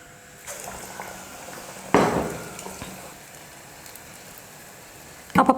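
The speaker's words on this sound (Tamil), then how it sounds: "இப்போ அப்படியே எடுத்து நம்ம எண்ணெயில் போட்டுக்கலாம் போண்டா." Egg bonda battered and dropped into hot oil, a soft continuous sizzle with a sharp splash and crackle burst as a piece goes in, then a quieter bubbling and clatter of utensils at the end.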